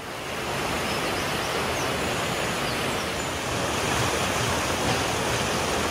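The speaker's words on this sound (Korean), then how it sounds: "물소리와 새소리를 들으며 이 물줄기의 끝을 향해 걸어갔다." Steady rushing stream water flows near Ginzan Onsen hot spring town in Japan, a dense, continuous broadband wash heard close and moderately loud, with no voices.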